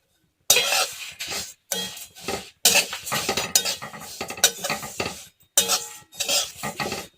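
Curry leaves are stirred and dry-roasted in a hot pan for a village-style sesame chutney, a spoon scraping and clinking in bursts of rhythmic stirring with a light sizzle and brief pauses between.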